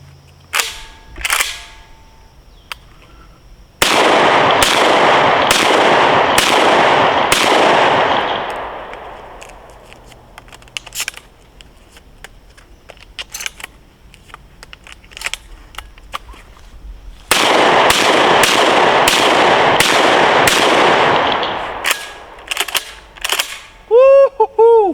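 A Beretta A300 Ultima Patrol 12 gauge shotgun fires at an outdoor range, two loud rapid strings of sharp blasts with echoing tails separated by a quieter pause, a few single shots scattered around them.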